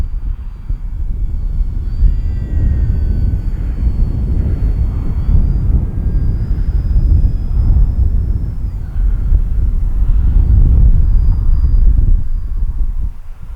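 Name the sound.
RC P-51 Mustang model airplane engine at 3/4 throttle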